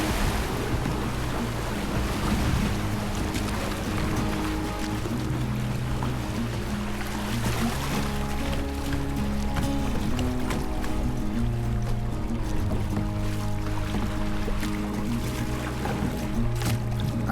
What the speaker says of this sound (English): the Juniper Run even has a small section of rapids with the water moving pretty quick